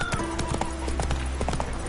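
Horse Roach's hooves clip-clop in a steady trot in The Witcher 3, loud and close, with faint talk and game ambience underneath.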